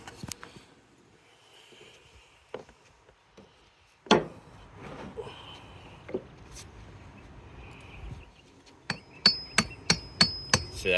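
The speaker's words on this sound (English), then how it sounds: "I hammer on that end and just drive it into place gently" A hammer taps a punch to drive a latch pin into a Pelican 1650 case, with scattered knocks and handling noises, then a quick run of six sharp, evenly spaced metallic taps near the end.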